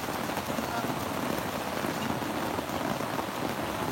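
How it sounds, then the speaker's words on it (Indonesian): Heavy rain falls steadily during a mountain hike on Gunung Gede in West Java, a dense even hiss of drops on surfaces, close and continuous throughout. "hujan deras banget"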